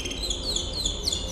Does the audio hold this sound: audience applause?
no